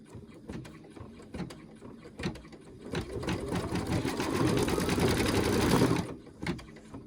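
An embroidery sewing machine stitches a DIME in-the-hoop raw-edge applique butterfly design, with rapid mechanical needle chatter. Short bursts come first, then a loud, sustained run of stitching that stops abruptly near the end and is followed by a few brief clicks.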